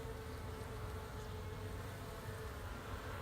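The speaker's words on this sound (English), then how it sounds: "The bees are in an okay mood. They're not too upset with me." Honey bees from an opened hive hum in a steady, dense buzz during a hive inspection, a close, continuous drone with no talking.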